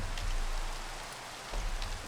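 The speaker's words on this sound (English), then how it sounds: "Oh, it's raining." Steady Minecraft rain in Modern Skyblock 3 hisses evenly throughout with a few louder drop-like taps, fairly close and alone, without talk.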